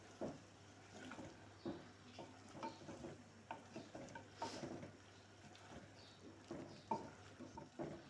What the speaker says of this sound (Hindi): बस यहाँ पर अभी मीडियम फ्लेम पर मैं इसको फ्राई करती जा रही हूँ